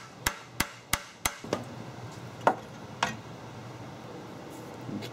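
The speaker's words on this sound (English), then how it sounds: "you'll see Mechanical Pete hammering it" Four sharp, evenly spaced metallic hammer blows on a stuck starter motor of an Audi Coupe ring out close by, followed by a few more scattered, softer strikes against a quiet background.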